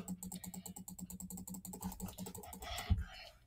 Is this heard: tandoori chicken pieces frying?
no